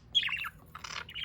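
A pet budgie chirps and squawks close by, giving a brief sequence of bright, scratchy calls with a short gap between them.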